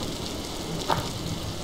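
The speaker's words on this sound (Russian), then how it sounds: "На улице идет дождь" Rain falling in the video game Block Story, a dense, even hiss of downpour on surfaces with a single brief splash or drip standing out midway, moderately quiet and continuous.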